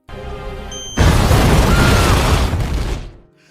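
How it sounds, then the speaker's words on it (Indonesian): A bomb planted in a restaurant detonates in an action film with a sudden, heavy boom that swells into a loud rumbling roar, then fades out quickly. "mengizinkan orang ini untuk meledakkan bom yang sudah terpasang di sebuah restoran"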